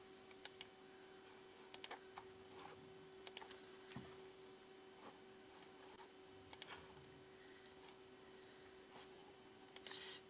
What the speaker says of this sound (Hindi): ओके, तो हम हिंदी 300 वर्ड वाली टाइपिंग करके देखते हैं।